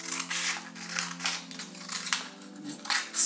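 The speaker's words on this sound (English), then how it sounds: "let's do it with the scissors" Scissors snipping through a folded paper stem for an origami flower, a run of crisp close cuts and rustles of paper alone, with no talking.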